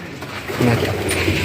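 Racing pigeons coo in a loft, a soft, low, repeated murmur that swells slightly louder partway through and continues steadily over close room noise.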